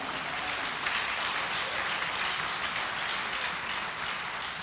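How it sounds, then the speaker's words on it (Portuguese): A church congregation applauds in a dense, even wash of clapping that holds steady and loud from start to finish. "Dá um aplauso a Jesus aí."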